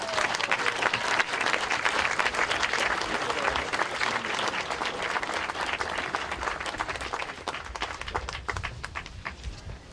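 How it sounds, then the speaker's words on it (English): Loud crowd applause at the ceremonial opening of a new track and field facility in Wellesley, with dense clapping that stays strong before thinning and tapering toward the end. "another huge round of applause for Trip"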